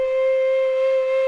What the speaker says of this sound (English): you can get a lot out of that basic sustain sound